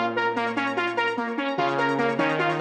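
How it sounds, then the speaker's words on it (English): A bright synth arpeggio steps quickly through repeating notes in a trap beat, with lower notes moving beneath it that follow the bass line. The pattern is steady and clear. "It's this arp, and below that arp there are these little notes which basically follow the bass line."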